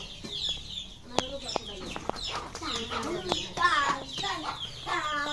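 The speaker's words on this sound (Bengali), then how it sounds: "টাইগার মুরগি বাচ্চাগুলো অনেক বড় হয়ে গেছে" Tiger-breed chickens and their grown chicks cluck and chirp in a farmyard flock while being fed rice, with a busy mix of close, overlapping calls throughout.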